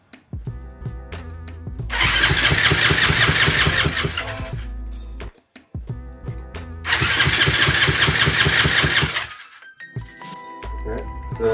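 An engine cranks and fires twice with easy start spray, each time roaring briefly into loud, rough running before cutting out, with short mechanical clicks and quiet gaps between the attempts.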